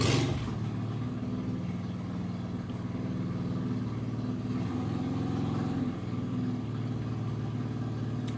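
A motorcycle engine idles and revs outside, a loud, steady mid-pitched drone with slight surges, continuous and fairly close, with no voices over it.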